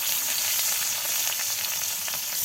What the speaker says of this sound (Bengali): মাছ ভাজি করা হয়ে গিয়েছে